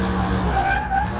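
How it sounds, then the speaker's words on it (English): Continuous tire skid from a car braking hard during a brake test in Car Mechanic Simulator, loud and steady, with a sustained squealing, humming tone under engine noise. "And here comes the brake test."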